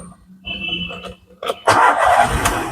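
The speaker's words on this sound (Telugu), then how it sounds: "సింగిల్ సెల్ఫ్ లో స్టార్ట్ అయింది సార్." A 2017 Volkswagen Vento 1.6 Highline starts on the first crank: a short cranking burst, then the engine catches and holds a loud, steady idle roar nearby.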